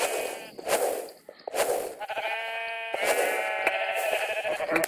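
Sheep bleat repeatedly in the Minecraft minigame Sheep Quest, a few clear, loud, drawn-out calls in quick succession with little else around them.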